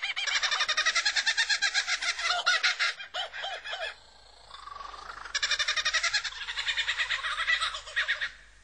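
A mimicking songbird delivers loud, close bursts of rapid repeated notes copying other species' calls, with a short quieter pause mid-way before another long rattling phrase.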